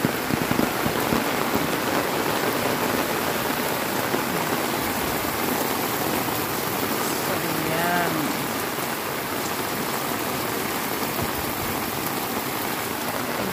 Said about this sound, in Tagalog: Lakas ng ulan din sa kabila. Wala pa naman silang gutter,